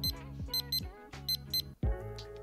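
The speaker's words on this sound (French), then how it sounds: "dès que la température est atteinte, une alarme de 70 décibels se déclenche" A DOT cooking thermometer alarm sounding a series of short, bright electronic beeps in quick clusters, close and clear, with no talking.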